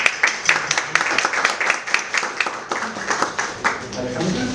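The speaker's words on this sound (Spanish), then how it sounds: "Y le damos un aplauso a nuestro invitado" Audience clapping for a guest at a seminar session, individual claps distinct and scattered, moderately loud, with voices murmuring underneath.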